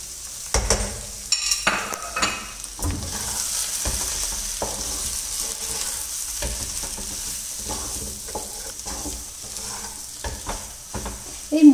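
Spice masala with carrots being sautéed in a pan for vegetable chops: a soft steady sizzle under repeated scraping and knocking of a spatula, near and fairly loud, with no talking.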